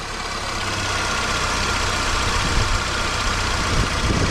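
A car engine idles steadily after a turbo has been fitted, with parts still removed; a continuous, fairly loud close-up rumble with slight rattly irregularities and no talking.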